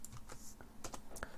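Ctrl+S pressed on a computer keyboard while working in LabVIEW: a few soft, close key clicks spaced irregularly over a quiet background.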